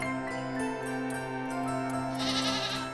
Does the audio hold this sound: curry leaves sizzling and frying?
no